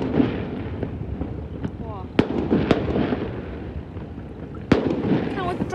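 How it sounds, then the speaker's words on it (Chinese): Firecrackers go off at sea as fishing boats head out, with a few sharp, separate bangs echoing over steady seaside background noise, and a voice briefly exclaims. "前面放炮 了，有渔船出海了"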